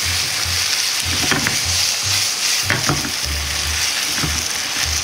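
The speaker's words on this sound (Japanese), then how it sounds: "全体に絡まるように炒め混ぜ合わせます。" Chicken pieces and nuts stir-fried in ketchup sizzle loudly in a pan, a steady close frying hiss with repeated scraping and tossing strokes of a spatula at an uneven rhythm, no talking.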